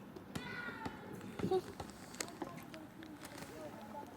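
A small kitten gives a couple of faint, high meows amid quiet rustling and soft taps, with muffled voices in the background.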